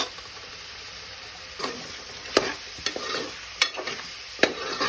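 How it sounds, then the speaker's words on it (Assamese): Onions and chilies sizzle steadily in a hot pan, broken by several sharp scraping stirs of a spatula at irregular intervals, close and fairly loud, with no talking. "পিঁয়াজটো অকণমান জ্বলালৈকে অলপমান হিলাই থাকিম।"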